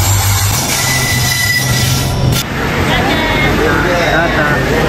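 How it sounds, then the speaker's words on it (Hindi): A train pulls into Sivasagar railway station with a loud, steady rumble of rolling wagons and high squealing wheels, while a crowd murmurs on the platform. "ट्रेन आ गया।"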